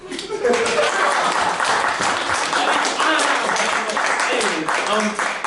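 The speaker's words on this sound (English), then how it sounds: "You guys are supposed to clap" An audience claps at the end of a live comedy show, a full burst of applause with scattered laughter and voices mixed in, loud and sustained.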